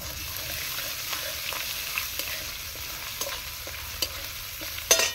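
Grated ginger and chopped green chilli frying in hot oil, a steady soft sizzle broken by light stirring taps and scrapes, with one sharper clink near the end, close and quiet, no voices.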